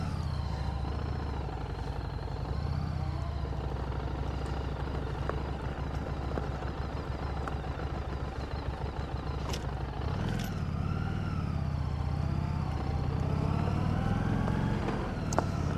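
A Harley Davidson Street 500 motorcycle ridden off-road: a continuous engine drone with wind buffeting, pitch rising and falling as the throttle changes, a surge around the ten-second mark, heard close from the rider's position.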